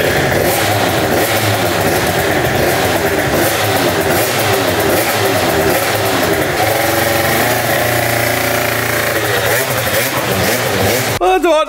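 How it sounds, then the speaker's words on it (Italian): A long-unused four-stroke Booster scooter engine runs loud and steady throughout, with a rough, uneven idle and a thick, continuous mechanical drone that cuts off at the very end. "Madonna che fumo che fa il booster, perché è un sacco che non lo accendo"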